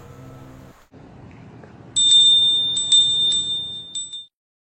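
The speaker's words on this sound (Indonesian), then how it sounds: "Suara lonceng tidak asing di telinga kita." A low murmur gives way to a bright, high bell struck several times in quick succession, ringing clearly before cutting off.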